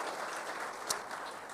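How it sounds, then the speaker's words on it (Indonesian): A church congregation applauds, a soft, distant and even wash of clapping with one sharper clap standing out partway through. "Berikan tepuk tangan kita untuk Tuhan kita."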